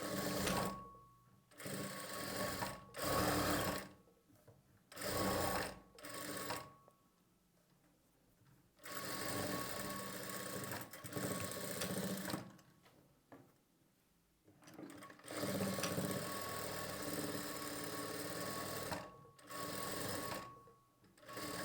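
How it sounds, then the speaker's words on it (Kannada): Side seams of a blouse are stitched on a sewing machine in several bursts of rapid, whirring stitching separated by pauses, close by and moderately loud, with no voices. "ಈ ರೀತಿ ಎರಡು ಸೈಡು ಸ್ಟಿಚ್ ಮಾಡ್ಕೊಳ್ಬೇಕು"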